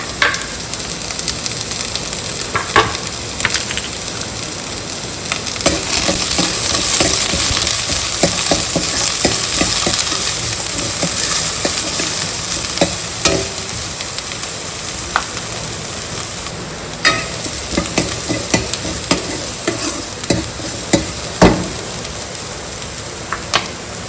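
Onion, garlic, ginger and green chilies fry in oil in a kadai with a loud, continuous crackling sizzle and frequent sharp stirring clicks and scrapes, steady throughout; no voices.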